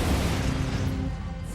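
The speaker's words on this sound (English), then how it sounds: "They demolished them with explosions." A Moscow church being demolished by explosives in the Soviet era: a loud, sustained rumbling blast and crash, filling the whole short stretch before starting to fade.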